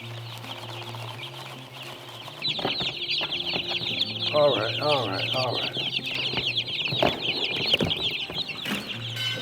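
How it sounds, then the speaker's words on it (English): One-week-old meat chickens cluck and peep steadily in a backyard carport coop, a dense close chorus that swells midway, with someone briefly speaking over them. "So we got some new meat birds."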